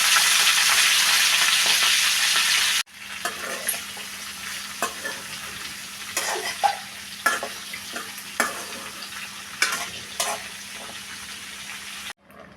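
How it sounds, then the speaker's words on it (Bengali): Chopped, washed vegetables frying in oil tempered with panch phoron and black cumin. A loud, steady sizzle at first drops to a quieter simmer, broken by repeated scraping and clinking of stirring in the pan. "এক এক করে কেটে ধুয়ে রাখা সবজিগুলো দিয়ে দিচ্ছি"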